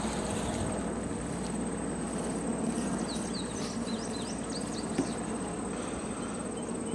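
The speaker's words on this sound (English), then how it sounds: "Look at how they're just swarming to it to investigate what that is in their hive now" Honey bees crowd inside their hive during a queen introduction, making a continuous, close, dense buzzing hum that stays steady throughout with no talk.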